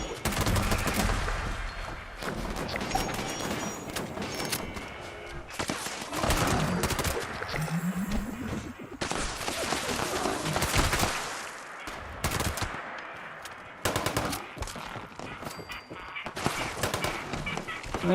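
Dense gunfire in Fallout 76 during a Fasnacht Halloween event, with bursts and rapid volleys clustering together, some loud and close, others fainter and overlapping, with a few honking game sounds mixed in.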